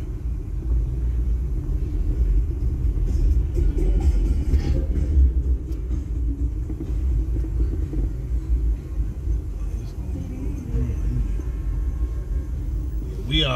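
Several Lincoln cars in a caravan cruise down a city street toward Victoria Park, giving off a steady low engine rumble and road noise throughout, with voices talking over it.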